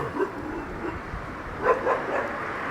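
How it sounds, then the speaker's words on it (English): A dog shut inside a car along Victoria Road in Dartmouth barks a few muffled, distant times, faint beneath steady outdoor street ambience. "I hear a dog barking somewhere."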